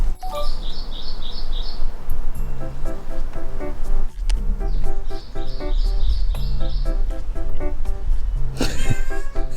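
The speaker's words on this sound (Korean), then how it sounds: "루카한테 야옹하는 거" Repeated cat meows, loud and close, over a busy background with chirping sounds and faint music-like tones.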